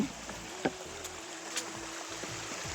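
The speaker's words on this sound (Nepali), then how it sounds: "पानी बगिरहेछन् कल बग्ने खोलाको पानी" A hillside stream in Snowdonia, Wales, flows with a faint, steady broadband rush and a few small splashes and knocks scattered through it.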